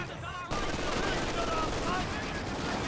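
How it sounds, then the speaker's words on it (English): Mortar and gunfire in Company of Heroes 2 during a 2v2 tournament match, sudden loud battlefield fire of rapid shots and impacts under commentary from a caster. "Is that friendly fire from his own mortar just then?"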